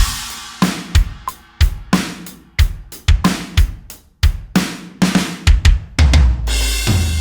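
Programmed drum kit from the Soundblade Counter Kit Kontakt library playing a punchy groove of kicks, snares and hats, loud and rhythmic, with a sustained low note entering at the end.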